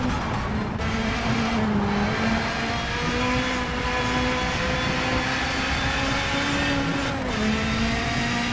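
A WRC 9 rally car engine holds steady at full throttle, a loud, sustained high-pitched drone with a brief dip and gear shifts near the finish of a stage, with no talk.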